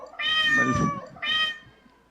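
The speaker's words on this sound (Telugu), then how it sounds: "పాపం అది మన ఇక్కడికి వచ్చిన పిల్లి అండి, వీళ్ళు వేసిన పిల్లి కాదు." A stray cat at a film pre-release event gives two clear, close meows, a longer drawn-out call followed by a shorter one, with little else around them.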